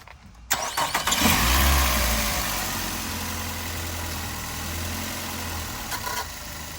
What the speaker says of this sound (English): The engine making that noise because the mounts.